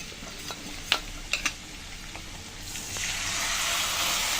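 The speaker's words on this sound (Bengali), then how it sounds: "এখন গুলে রাখা মশলাটা আমি দিয়ে দিচ্ছি।" Spice paste for a prawn curry hits a hot pan, and a few sharp clinks and scrapes of stirring give way to a rising, steady sizzle of frying.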